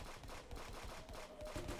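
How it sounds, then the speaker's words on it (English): Rapid gunfire aimed at the player in a multiplayer video game, a continuous fast rattle of shots, fairly faint and muffled. "Dude, they're shooting me now."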